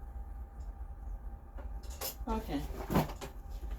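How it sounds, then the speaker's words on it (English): A house's front door opens midway with a latch click and a couple of knocking thuds over a low background hum. A voice speaks briefly around it. "that sounds like the front door"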